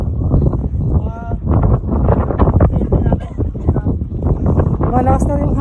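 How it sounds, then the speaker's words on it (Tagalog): Strong wind buffets the microphone continuously on a hiking trail on Mt. Timbac in thick fog, a loud steady roar with gusty swells. A voice talks faintly underneath. "Malakas na yung hangin."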